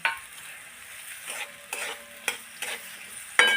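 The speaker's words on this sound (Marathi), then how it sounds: "कांदा लसूण आणि हिरवी मिरची आणि टोमॅटो आपण हे कापून घेतलेलं आहे आणि सर्व आता आपण परतवून घेणार आहे" Onion, garlic, green chili and tomato sauté in a pan under a soft sizzle, broken by repeated sharp scraping stirs and spoon taps against the metal, close and with no talk.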